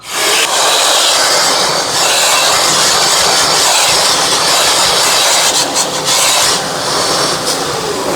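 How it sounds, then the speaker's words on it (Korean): A loud, steady blast of rushing air from a blower drying a washed Samsung wall-mounted air conditioner fan runs close by without pause, a harsh hiss that wavers slightly near the end. "송풍기 쏠 때 반드시 송풍팬 잡아주셔야 합니다."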